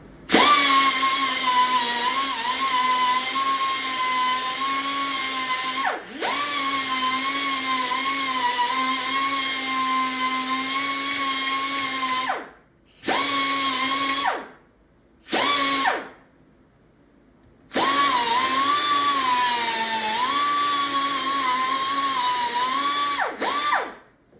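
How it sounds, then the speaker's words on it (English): A cutoff wheel grinds protruding staples off a wooden Taito arcade cabinet panel, giving a loud, sustained high-pitched whine in long runs, broken by a few short stops and restarts partway through. "Now I'm going to take my cutoff wheel and cut these staples that are hanging out of the wood off"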